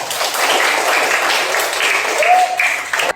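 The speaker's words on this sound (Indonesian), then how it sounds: "Tepuk tangan buat Dimas" A class of pupils applauds a classmate, Dimas, during a mathematics lesson: a steady, dense wash of clapping that lasts about three seconds and cuts off abruptly, with a few voices audible underneath.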